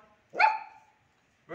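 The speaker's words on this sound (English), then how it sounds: "Dodo, bark." A dog gives a single sharp, close bark on command, followed by the start of a second, with no other sound between.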